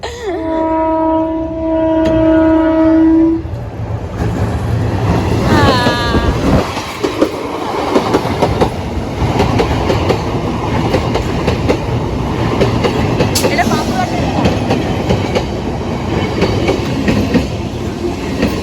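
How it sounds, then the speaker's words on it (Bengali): A train horn blares, then a train roars past close by at Dadpur bridge with loud rumbling and rhythmic clattering wheels that continues steadily throughout. "না যাব না ট্রেনটা আসছে"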